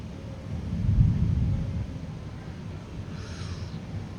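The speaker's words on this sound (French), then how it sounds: "Ah, il commence de nouveau à y avoir des bons petits coups de tonnerre là." Thunder rolls during a storm at Lake Iseo, Italy, as a low rumble that swells and fades within a couple of seconds, with faint wind noise continuing after.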